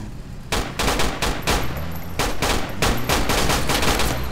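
Gunfire in the video game Battlefield 2 Project Reality, with a dense volley of sharp, rapid shots in quick succession, loud and close, continuing for several seconds without speech.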